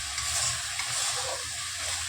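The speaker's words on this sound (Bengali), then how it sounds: "মাছ ভাজা হয়ে গেছে, আর মশলা কষাচ্ছি" Spices being fried and stirred in a pan for a Bengali fish curry, the fish already fried; a steady close sizzle with soft stirring scrapes, no talk.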